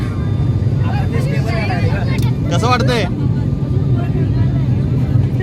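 Inside a passenger plane's cabin during takeoff, a loud steady low engine roar fills the scene while people talk over it.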